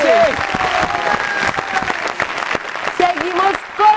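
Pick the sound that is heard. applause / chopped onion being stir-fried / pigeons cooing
applause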